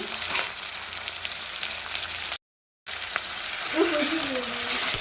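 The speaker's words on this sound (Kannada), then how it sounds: "ಸೊ ಈರುಳ್ಳಿ ಮತ್ತು ಟೊಮೊಟೊ ಆಯಿಲಲ್ಲೇ ಚೆನ್ನಾಗಿ ಫ್ರೈ ಆಗಬೇಕು" Tomato and onion frying in oil for an egg curry, a steady close sizzle with a brief dropout partway and some stirring toward the end.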